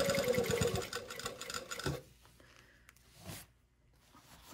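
Sewing machine running a seam through a coat's lining fabric, a fast close buzzing stitch for about two seconds, then a brief short burst after a pause.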